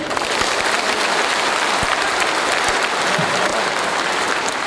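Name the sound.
audience applause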